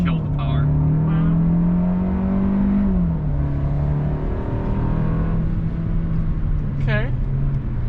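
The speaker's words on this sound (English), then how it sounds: "That engine was a little whiny, but you know, for what this is, not too bad" A 2021 Lexus LS 500 F Sport engine holds a steady whine while driving, with a sustained tonal hum that dips slightly midway, over constant road noise, and a voice briefly breaks in.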